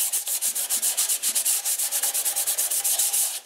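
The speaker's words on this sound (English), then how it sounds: "I'm going to use a 320 grit emery sandpaper just to scuff the areas" 320 grit emery sandpaper scuffing leftover paint on a snowblower chute, heard as fast, even back-and-forth rasping strokes, loud and close, with no pause or talking.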